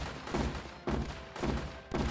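Gunfire from units in the war strategy game Northend Tower Defense, loud rapid bursts repeating in four even volleys about half a second apart, dense and close.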